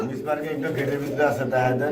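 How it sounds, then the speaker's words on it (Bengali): Fancy black shirting pigeons coo in a loft, their soft, rolling calls close by and partly masked by people talking over them. "এখানে রয়েছে সিঙ্গেল এক পিস কবুতর বাড়ি কি কবুতর অরিজিনাল ব্ল্যাক শার্টিং"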